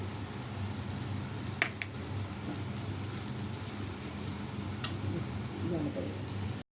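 A paste of cashews, peanuts and white sesame seeds fries in a pan as the base for a gravy. A soft, steady sizzle continues throughout with a few brief clinks and scrapes, and no voices are heard.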